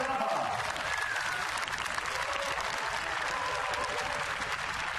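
Steady, dense applause from a large crowd at a women's 15,000 m elimination inline speed skating final at the 2017 World Games, continuous for several seconds with no break.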